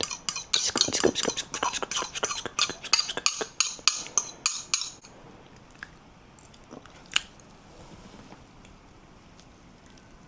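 Metal cutlery scoops through creamy mushroom spaghetti in a rapid run of close, wet clicks and scrapes for several seconds. Then it goes quiet, with only a few scattered clinks.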